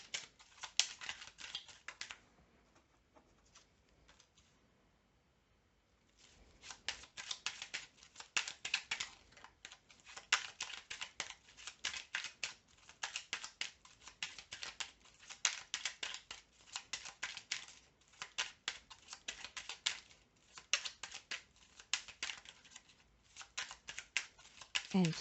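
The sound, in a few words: tarot cards being shuffled and drawn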